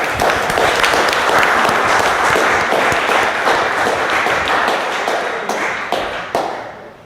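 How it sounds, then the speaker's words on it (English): An audience applauds Team Blue at an award-winning presentation, with steady, dense clapping near and loud that thins out and fades over the last two seconds. "How about a nice round of applause for them?"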